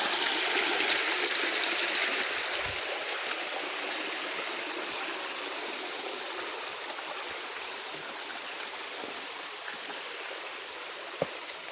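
Creek water flows steadily past a natural dam of rocks and tree roots in a wooded park gorge near a waterfall in Bedford, Ohio, a continuous close rushing wash with a brief thump at the end.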